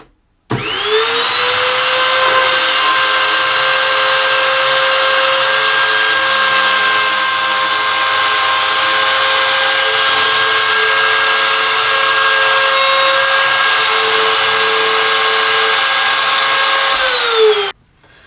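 A steady, loud drill whine runs continuously for about seventeen seconds as a 2.5mm hole is bored into a wooden acoustic guitar bridge, starting and stopping abruptly with no talking.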